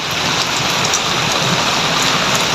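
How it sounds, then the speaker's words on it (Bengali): Steady, dense rain falls in Malaysia, a continuous loud hiss of drops hitting surfaces with no letup and no voices. "বিগত 3 মাস 4 মাসের পরে বৃষ্টির দেখা মিলল এবং প্রায় 1 ঘন্টা যাবৎ বৃষ্টি হইতেছে।"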